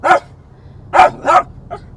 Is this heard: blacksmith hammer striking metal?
no